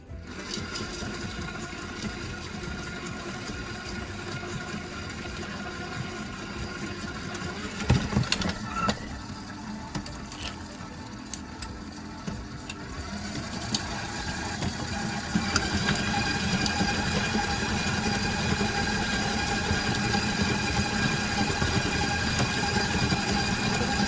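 An electric mixer churns chocolate chip cookie dough with a whole bag of chips, a steady close motor whir that stutters briefly midway, then grows louder and more strained, with no talk.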